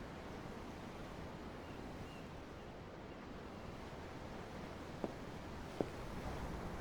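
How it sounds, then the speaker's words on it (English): Steady ocean surf washing against a ship at an underground harbor in Tales of Arise, a constant low roar with two faint clicks near the end and no talking. "The waves. They help me think."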